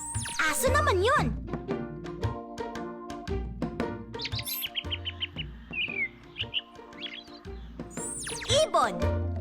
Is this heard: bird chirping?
yes